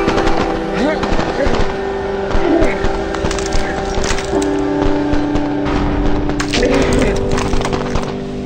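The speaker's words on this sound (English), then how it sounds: "threw the firecracker and then you just ran right into it" A firecracker goes off outdoors in a few sharp cracks amid loud, busy background noise, with people talking throughout.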